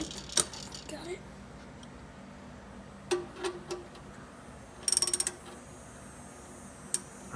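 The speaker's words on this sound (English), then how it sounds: "Do a couple more turns with the socket." A socket ratchet works loose the oil drain plug on a 1967 Ford Mustang with a 289 V8. Scattered metallic clicks and rattles sound close, including a quick burst of ratcheting ticks, and a low voice is heard faintly.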